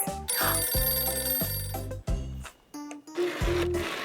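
A telephone rings with a repeating electronic ringtone of bright tonal pulses in a steady rhythm, fairly loud with no voices.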